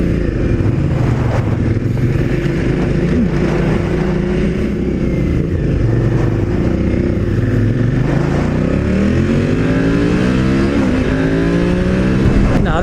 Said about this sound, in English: Now that, my friends, is how you wheelie an Africa Twin.